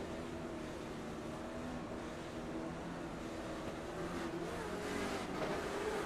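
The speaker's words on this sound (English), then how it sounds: "It almost sounds like somebody downshifts." Late model race cars at a county road circuit give a steady, distant, broadband engine roar that rises slightly in pitch, heard alone with no talk.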